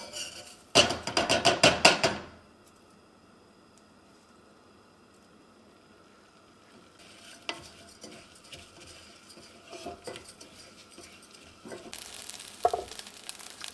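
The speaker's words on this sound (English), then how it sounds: "toast my rice in a little bit of oil" Rice toasting in a little oil hits the hot pan with a loud burst of sizzling, then settles into a faint, quiet crackle broken by scattered utensil clinks and scraping.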